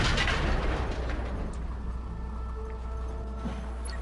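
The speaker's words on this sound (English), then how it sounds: "Oh, that's an anti-aircraft gun." A heavy anti-aircraft gun fires in the Field Commander war game, opening with a loud low boom and rumbling blast that fades into a sustained noisy wash, with a few faint pops later.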